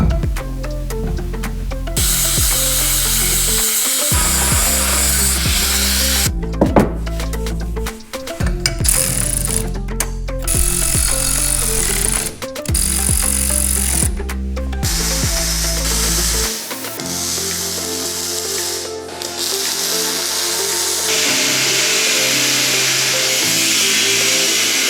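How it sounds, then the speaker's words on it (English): A flap wheel on a grinder cleans steel for a welding fabrication project, producing a loud continuous rasping whine with rhythmic dips and brief pauses as the wheel is lifted and pressed back onto the metal. "then we're going to clean it up with the flap wheel"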